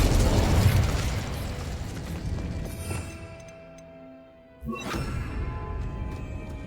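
A Confringo spell explodes in Hogwarts Legacy, a loud burst that decays into a fading rumble, followed by a sharp pop and renewed crackle.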